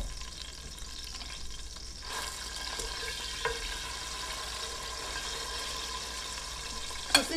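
A single pork chop fries in a pan with sauce, giving a soft, steady sizzle with a few faint clinks and a sharper knock at the end.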